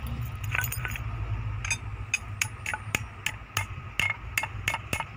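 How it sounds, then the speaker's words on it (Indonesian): A steel ring gear is hammered down onto a car flywheel just after heating, with a series of sharp, irregular metallic blows ringing out close by over a steady low hum. "Kita palu-palu, kita ratakan supaya masuk guys."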